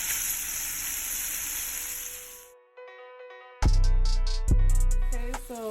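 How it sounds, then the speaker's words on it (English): Shrimp sautéing in butter in a covered skillet gives a steady, close sizzle for about two and a half seconds, then cuts off and is followed by clear, ringing tonal sounds. "the shrimp has sauteed in the butter"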